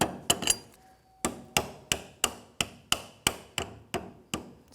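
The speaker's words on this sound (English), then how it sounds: "So take a hammer." Steady hammer blows, about a dozen sharp metallic strikes at an even pace after a few quick taps, installing a rear shock mount on a Jeep Grand Cherokee, close and clear with no talking.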